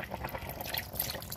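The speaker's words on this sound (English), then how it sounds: "So at this point, we're going to add a little bit more water." Water is poured into a pot of fish jollof rice with fish, vegetables and steamed rice, a faint, brief trickle and splash.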